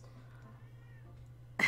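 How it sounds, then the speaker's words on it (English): A house cat meows once at close range near the end, loud and brief, after a stretch of quiet room hum. "my mic's picking up my cat meowing in the background"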